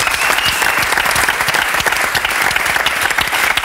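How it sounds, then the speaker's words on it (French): A French television talk-show studio audience applauds a game winner. The clapping is loud, close and crisp, with distinct individual claps, and runs continuously for several seconds. "On applaudit Bravo."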